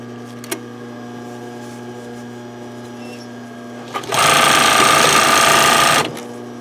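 A sewing machine stitching a roller towel starts after a quiet hum and runs loud and steady for about two seconds at close range, then stops abruptly.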